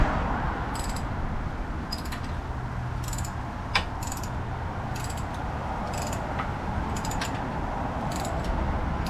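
A hand ratchet clicks in short bursts while loosening a bolt during a 2-inch Mopar lift kit install on a Jeep Wrangler 4xe, the sharp repeated clicking set over a steady ambient hum with no speech.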